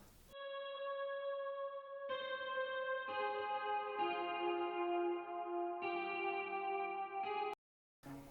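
A melodic electric guitar line for a verse, processed with effects and chorus, plays sustained chiming notes that change every second or so, clear and upfront, before a brief dropout near the end.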